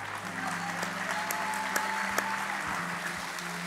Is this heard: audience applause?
yes